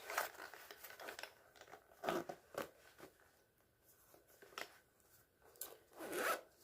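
Several quick zipper pulls on the small carrying case of a Full Pet Moon backpacking stool, close and crisp, with short rasping bursts separated by pauses of quiet handling and rustling.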